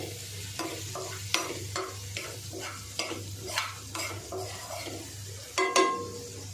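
Cumin powder, garam masala and other spices sautéed in a pan while making ragda chaat, with repeated scraping stir strokes and a low steady sizzle, close and moderately loud, no voices.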